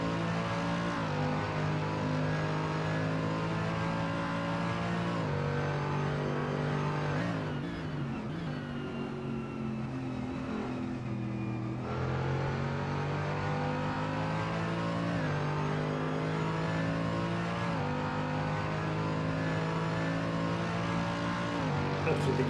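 A race car engine in a sim racing game at Mugello climbs through six gears, each steady high rev note dropping sharply at the shift before rising again, loud and continuous with a voice talking over it.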